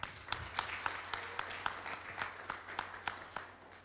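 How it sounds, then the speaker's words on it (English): Audience applause at the Mashariki Creative Economy Impact Investment Conference at the Serena Hotel, an even patter of many hands clapping steadily through the whole stretch at moderate distance, with no voice on top. "a special round of applause for Sedea"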